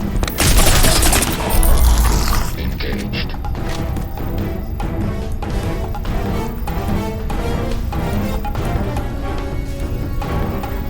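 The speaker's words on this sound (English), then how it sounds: "So I'm wondering where that machine gun was." Rapid machine gun fire in a video game, a loud dense burst at first that settles into sustained rattling bursts for the rest of the scene.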